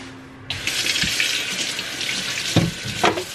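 Water running from a kitchen tap while fruit and vegetables are being washed, a steady close hiss of flowing water that starts abruptly and continues with splashing changes, no talk.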